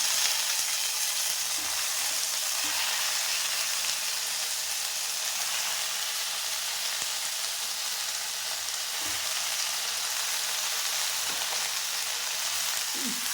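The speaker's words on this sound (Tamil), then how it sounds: "நல்லா திருப்பி விடலாம் இப்போ நல்லா வதங்கிட்டு இருக்கு பாருங்கள்" Native Dindigul coriander sautéing in a pan for pickle, a constant bright frying hiss throughout with a few faint soft stirring bumps, no voices.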